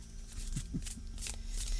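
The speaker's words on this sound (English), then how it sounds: "I'm going to flip this again and shuffle some more." A tarot card deck being shuffled by hand, heard as a steady riffling and papery flutter with a few soft slaps, close and fairly quiet with no talk.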